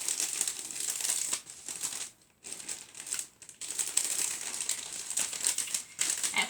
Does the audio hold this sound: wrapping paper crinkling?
yes